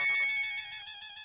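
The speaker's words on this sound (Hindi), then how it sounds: "बासुंदी का फिर से फोन" A phone rings with a high electronic ringtone, a steady warbling repeated tone, fairly faint and alone without talk.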